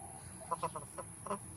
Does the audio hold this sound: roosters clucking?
yes